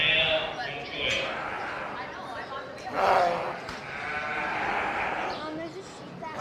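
Sheep bleat repeatedly, with one loud close call standing out, at the 2025 Mills County Fair sheep show amid crowd murmur and people talking nearby.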